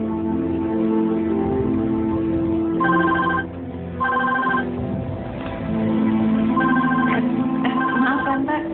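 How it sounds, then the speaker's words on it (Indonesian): A phone rings in bursts of a repeating electronic tone, loud and close, over background music and a low hum in an Indonesian drama scene. "ya sebentar ya aku angkat telepon dia"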